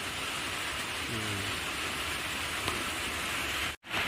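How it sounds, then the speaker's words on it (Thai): Steady rain falls around a small hut in the forest, a dense continuous hiss with no voices, broken by a brief dropout near the end. "ฝนก็ตก"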